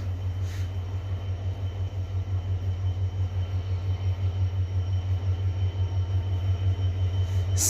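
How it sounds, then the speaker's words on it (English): A cross-country passenger train from Edinburgh to Plymouth passes through Swinton station in South Yorkshire, a steady deep rumble with rhythmic pulsing that builds slightly over the span, heard alone without voices. "a cross-country service from Edinburgh to Plymouth is about to pass by."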